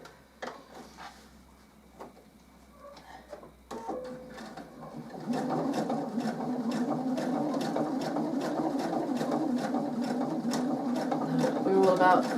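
A home sewing machine stitches a reusable washing-up sponge. A quiet stretch with a person talking comes first, then the machine runs in a loud, steady burst of rapid mechanical whirring that carries to the end.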